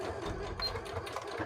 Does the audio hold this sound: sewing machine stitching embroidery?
yes